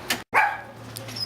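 A puppy gives a single short, fairly close bark or yelp outdoors, followed by quieter background ambience.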